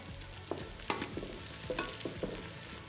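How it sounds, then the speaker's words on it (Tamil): Curry leaves sizzle in oil with sautéed shallots and dried chillies, giving a soft steady frying hiss punctuated by several sharp crackling pops and light stirring clatter. "சின்ன வெங்காயம் வரமிளகாய் வதங்கினதும் 1 கைப்பிடி கருவேப்பிலை போட்டுக்கலாங்க"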